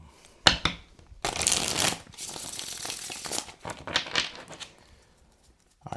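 Tarot cards are shuffled by hand in quick, crisp riffling bursts, a sharp snap followed by longer papery flurries and softer flicks that fade out toward the end.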